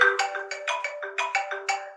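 An iPhone ringtone preview plays from the ringtone and alerts volume setting: a quick, steady run of bright, rhythmic electronic chime notes, clear and close, with no talking.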